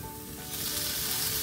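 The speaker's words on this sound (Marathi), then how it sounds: "थोडंसं तूप मी आणि ऍड केलंय आणि आता अजून परतायचं" Sweet potato sizzles in ghee in a pan, a brief close crackling hiss that swells louder partway through, with no speech.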